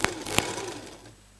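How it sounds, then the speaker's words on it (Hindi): A sewing machine stitching palazzo pants gives a brief close mechanical whir with a couple of sharp ticks, and the sound fades over a second and a half. "देखिए हमारी सिलाई कंप्लीट हो रही है।"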